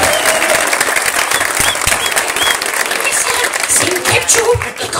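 A live audience applauds loudly and close, a dense, continuous wash of many hands clapping with a few scattered sharper claps and faint crowd voices underneath.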